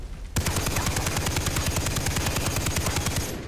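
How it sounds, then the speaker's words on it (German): Rapid automatic gunfire in the video game Far Cry 3, fired at pipes: a loud, close, evenly spaced stream of shots begins abruptly and runs steadily to the end with no talk. "Ich muss auf die Rohre schießen."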